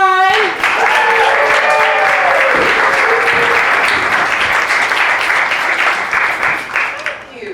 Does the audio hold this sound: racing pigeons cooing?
no